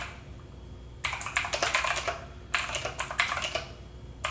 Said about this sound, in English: now that I'm typing, it's kind of fixing itself